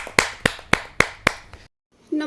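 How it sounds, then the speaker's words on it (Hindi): Five evenly spaced, sharp claps ring out at a poetry gathering to welcome a poet, then cut to silence before a voice begins. "जोरदार ताली के साथ"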